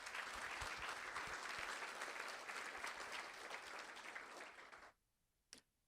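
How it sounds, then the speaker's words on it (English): An audience at a board meeting gives sustained, even applause that cuts off abruptly, followed by near silence and a single faint knock. "Let's give him a big round of applause."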